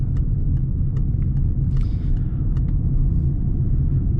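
A car cruises in third gear along a wide residential road, its engine a steady low rumble heard from inside the cabin, with a few faint ticks above it and nobody talking.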